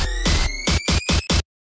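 A short cheerleading transition background of booming hits and a rising swell, with a rhythmic stuttering pattern of loud bursts that cuts off abruptly into silence.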